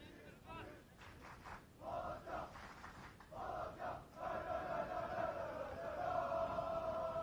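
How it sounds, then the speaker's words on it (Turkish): Malatyaspor football fans chant in a stadium crowd, a massed roar of voices rising in waves with rhythmic surges, growing louder and steadier toward the end. "Malatya Spor taraftarlarında bu dakikalarda tezahüratları artmaya başladı."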